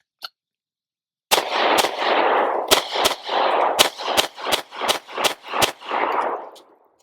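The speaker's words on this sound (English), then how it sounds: "that was the first 10 rounds through the Sig P365 today" Ten sharp, loud reports from a Sig P365 pistol at an outdoor range, fired in an uneven, fairly quick string, each crack trailing into a brief echo.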